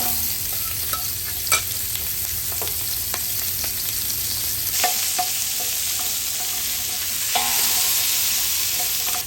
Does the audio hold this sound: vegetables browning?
yes